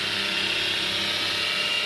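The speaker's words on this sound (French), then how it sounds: "Je relève légèrement la meuleuse pour pas manger tout le rayon, pour pas être trop à plat." Angle grinder held slightly raised while polishing raw stainless steel, a steady, loud, continuous high whine with no breaks and no talking.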